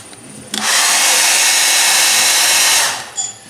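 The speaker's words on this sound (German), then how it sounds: "Jetzt auftrocknen und föhnen." Hair dryer blowing at very low speed to dry paint, a steady broadband whoosh that switches on, runs evenly for a couple of seconds at close range, then cuts off, with no talk over it.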